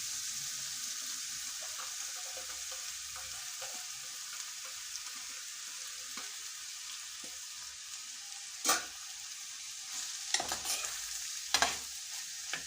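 Tomato sautéing in a hot pan for a curry: a constant soft sizzle and hiss with occasional sharper scrapes and clatters from stirring, close by, with no talking.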